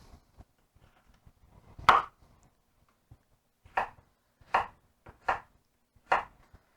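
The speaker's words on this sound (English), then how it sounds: "Cut these into cubes as well." Knife chopping vegetables into cubes on a cutting board for Finnish salmon soup: one sharp chop followed after a pause by four evenly spaced, close, crisp chops, with no talk.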